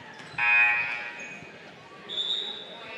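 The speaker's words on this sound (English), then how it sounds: "There's a buzzer, and they will allow the sub to come in as Tyler Lammers into the Ranger lineup" At a boys varsity high school basketball game in a gym, a substitution buzzer sounds in two steady electronic blasts, the first louder than the second, over faint crowd noise.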